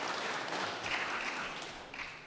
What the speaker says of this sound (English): you should clap for it